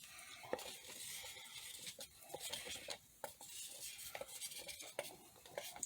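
Mixed resin being stirred in a cup while molding a crocodile head, a steady scraping swirl with small clinks of the stir stick against the cup, close and moderately quiet.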